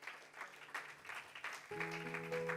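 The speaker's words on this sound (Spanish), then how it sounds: "Fuerte el aplauso al Señor" A church congregation claps in praise, scattered moderate applause with distinct hand claps, joined partway through by a sustained tonal chord like an organ or keyboard.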